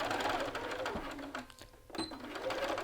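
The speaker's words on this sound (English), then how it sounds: "We're going to stitch right next to our seam line on the lapel edge." Sewing machine stitching along a lapel edge of a garment, a quiet steady mechanical whir in short runs with a brief pause in the middle.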